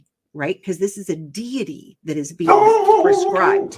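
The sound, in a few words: dog barking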